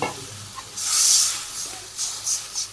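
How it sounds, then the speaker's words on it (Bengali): Rice flour mixed with water is poured into greens frying in a pan, setting off a few bright hissing sizzle bursts that swell and fade over a quiet background. "আমি চালের গুঁড়ি আর কি জলটা ঢেলে নিচ্ছি"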